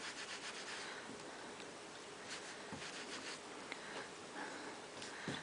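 A woven square is rubbed and mauled by hand right after coming off the loom, giving a continuous close, soft scratchy friction with small irregular scuffs throughout.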